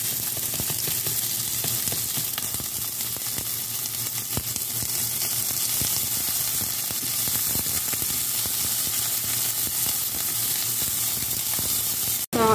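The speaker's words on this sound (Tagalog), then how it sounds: "So, pasabayan na rin ang ating garlic at ang ating onion." Garlic and onion frying in hot oil for a minced beef dish with long beans and eggplant, a steady, continuous sizzle throughout, ending with a brief clatter.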